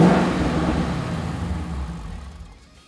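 The V8 of a 2015-2017 Mustang GT fitted with a Holley iNTECH cold air intake roars in a single loud rev that swells and then fades away over a few seconds, with no talking.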